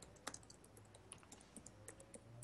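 Typing on a computer keyboard: quick, irregular clicks of keys, faint and close, with no talk over them.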